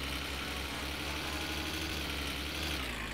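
A septic truck engine idles steadily in the driving game My Summer Car, a continuous low rumble with even vibration and no talk over it.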